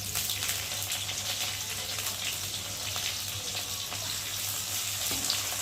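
Onions and slit green chillies fry in hot oil, a steady bright sizzle running evenly throughout, close and unbroken, with no talk.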